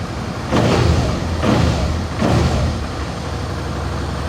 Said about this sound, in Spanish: cómo suena esta moto